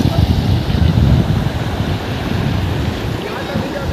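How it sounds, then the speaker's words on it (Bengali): Dulung River floodwater pours across a road in a loud, rushing wash, with gusts of wind buffeting the microphone. "জল প্রবাহ শুরু হয়ে গেছে, জল উপর দিয়ে চলে এসছে"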